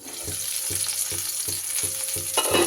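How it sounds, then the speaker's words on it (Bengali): Cauliflower, carrot and potato frying in a covered pan give a steady broadband sizzle throughout, with regular soft thuds roughly every half second and a brief louder burst near the end, no talking. "এইভাবে ঢাকা দিয়ে দিয়ে সবজিগুলো কিন্তু ভেজে নেব।"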